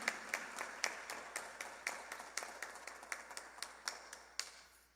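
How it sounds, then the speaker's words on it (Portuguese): A small congregation in a church sanctuary applauds after a reading at Mass, with sparse, fairly regular claps spread through the room, moderately loud and without voices. "Vamos aplaudir a palavra de Deus."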